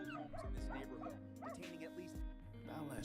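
Small dogs yip and bark in short repeated bursts over voices talking, with some whimpering mixed in, close and fairly quiet.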